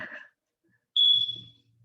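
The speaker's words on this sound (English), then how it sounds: "Since we have the smoke alarm" A smoke alarm gives a single shrill electronic chirp after a brief pause, sharp and high-pitched, fading over about half a second.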